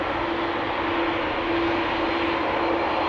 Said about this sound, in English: It's pulling up. KLM flight 1375, E2 Embraer 195.